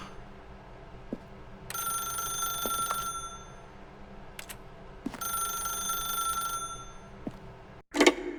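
An old-style telephone rings in the video game The Stanley Parable: Ultra Deluxe, two bright trilling bursts separated by a pause, fairly close and clear over a quiet background.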